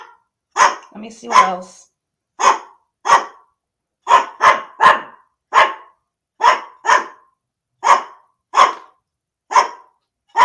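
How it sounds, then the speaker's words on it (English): A dog barks repeatedly in loud, close, evenly spaced single barks, about a dozen over ten seconds, with a brief spoken line near the start. "Why does he just bark, bark, bark?"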